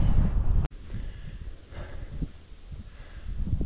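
Wind buffets the microphone of a cyclist riding uphill into a headwind, a loud gusty rumble that cuts out sharply, then returns as uneven low buffeting.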